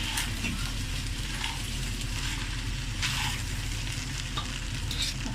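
Chicken Manchurian frying in a pan on a low flame is stirred, giving a steady soft sizzle with scraping stirring sounds and a low background hum, close up and without speech.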